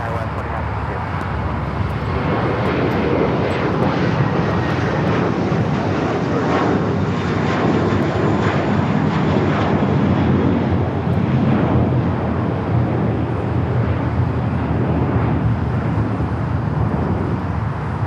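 A SkyWest jet taking off from runway 25 Right at Los Angeles International Airport, a steady loud roar of engines with wind noise, continuous for the whole stretch.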